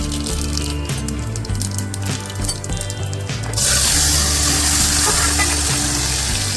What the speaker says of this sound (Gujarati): તેલ આવી ગયું છે શાકનો વઘાર કરી નાખીએ